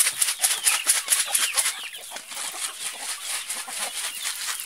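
Backyard chickens cluck and squabble over food, a busy flurry of close, overlapping clucks and squawks that is loudest at first and then continues more softly.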